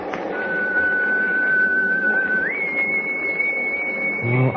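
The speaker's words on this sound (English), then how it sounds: "Gosh, that whistle is..." A steady, piercing whistle holds one pitch, then jumps a step higher and sustains, sounding over a rumbling, noisy background.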